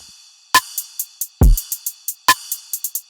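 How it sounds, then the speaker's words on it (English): High-pitched snare drum samples hit in a dubstep beat: sharp bright cracks repeat in a quick, uneven rhythm, each ringing briefly with echoing repeats, and a single deep thump lands midway, played alone. "I love using these pitched snares where they're really high."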